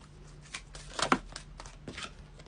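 Oracle cards are shuffled softly and close by, with a series of light riffling and flicking bursts, one louder snap in the middle, over faint background hum.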